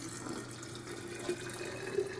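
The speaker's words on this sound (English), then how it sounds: "So, what we want to do is put your water in." Filtered water pours from a tap into a container while making home-made water kefir, a soft, steady trickle with small splashes, fairly quiet and heard alone.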